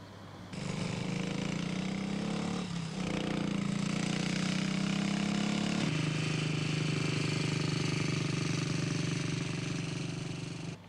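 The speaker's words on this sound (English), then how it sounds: "Satisfied the road is clear, he accelerates and clears the crossing as quickly as possible." A road vehicle accelerates across a road crossing, its engine droning loud and close for nearly the whole stretch, pitch climbing then dropping at a gear change before steadying again, with no talking.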